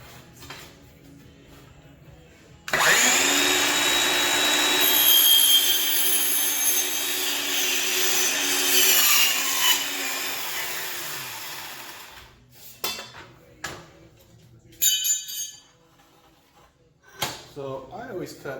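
A power saw cuts an edge of LG Himacs solid surface base moulding, a loud, steady, high-pitched whine running for about ten seconds before winding down, followed by scattered handling knocks and clatter.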